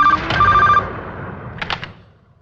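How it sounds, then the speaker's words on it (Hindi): An office telephone rings with a repeating electronic trill in short bursts, fairly close and loud, followed by a brief rattling clatter near the end. "तो मिस्टर विशाल की माँ का फोन है, वो आपसे बात करना चाहती है।"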